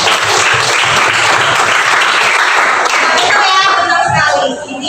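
Students clap together in a classroom, a loud burst of close, rapid hand claps that fills most of the moment before fading, with some voices mixed in.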